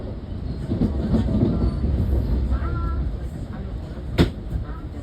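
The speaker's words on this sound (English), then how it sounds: "there was the Pennsylvania Railroad livery ALP-46A 4636 trailing that other train heading to New York" An NJ Transit train hauled by an ALP-46A electric locomotive rumbles past close by with a steady heavy roar, a faint whine and a sharp metallic clank near the end; a voice murmurs faintly underneath.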